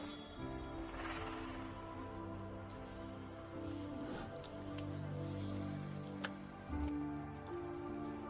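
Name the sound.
rain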